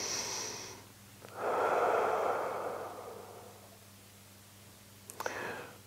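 Deep, slow breaths during a lower-back and hip stretching session, a long breathy exhale swelling and fading over a few seconds, close and quiet, with a couple of faint clicks near the end.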